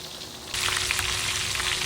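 Fish frying in hot oil bursts into a loud, crackling sizzle after a quiet moment and keeps hissing steadily close by, with no voices.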